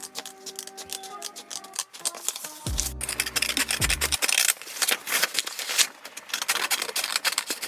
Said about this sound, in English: Cutting paper ASMR.